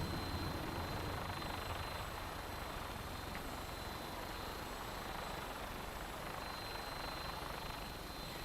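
Aircraft landing in the video game Fallout 4, a steady, dense engine and rotor roar that stays even and unbroken throughout, with no speech.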